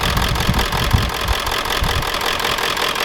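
Old Ford F-250/F-350 7.3L diesel engine idling with suspected worn injectors, a steady rough low rumble with faint knocking pulses throughout, close and loud with no talking.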